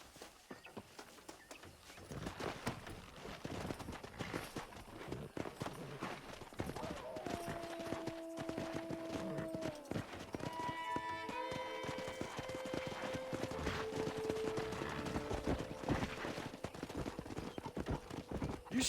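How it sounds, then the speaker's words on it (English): Horse hooves clip-clop at a steady pace in the Red Dead Redemption video game, mixed with game music tones and a whinny, continuing throughout under occasional voices. "Let's see if we can't wrangle some horses."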